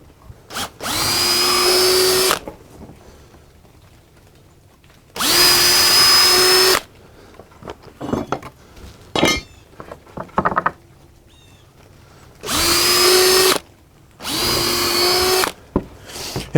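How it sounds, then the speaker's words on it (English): A power drill bores holes in wood while an inkle loom is being built, with four loud bursts of whirring about two seconds each, separated by quiet gaps with small clicks and handling noises. "Now I've got to drill another hole for my heddle"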